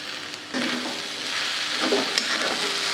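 Spicy red-chilli sabudana khichdi sizzles steadily in a pan over a low flame while it is stirred, with a continuous close frying hiss and a few soft scraping strokes of the spoon and no voices.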